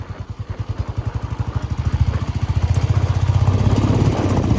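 A motorcycle engine runs on a narrow mountain link road on the way from Mangan to Lachen, a steady near, loud pulsing thump that grows slightly louder over the stretch, with no talk.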